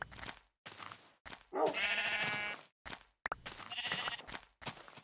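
Sheep in the Minecraft video game bleat repeatedly in short, wavering calls separated by brief pauses, close and clear with no talking.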